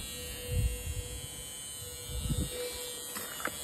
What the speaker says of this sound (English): The buzzer's annoying.